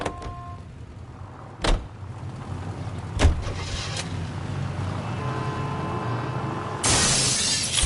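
A car in the video game LA Noire drives on with a steady low engine hum, broken by a few sharp clunks and impacts and a loud rushing burst near the end.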